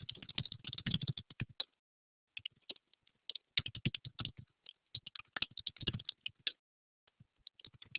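Rapid typing on a computer keyboard in a classroom, close and crisp, with bursts of quick key clicks separated by short silent pauses.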